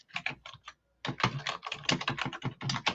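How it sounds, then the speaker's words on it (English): Fast typing on a computer keyboard: dense rattling keystrokes in two bursts separated by a brief pause, close and fairly loud. "serious typing going on there"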